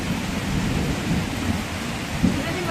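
Heavy rain pours steadily while deep thunder rumbles through it, a dense, loud, continuous roar with a brief sharper crack near the end and no voices.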